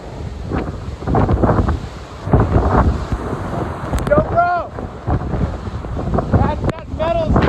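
Strong gusty wind buffeting the microphone outdoors after a hurricane, rough and loud, with someone talking over it.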